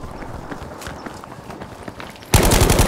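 Scattered shots and footsteps under a busy Battlefield V game mix, then a sudden loud burst of rapid automatic gunfire close by.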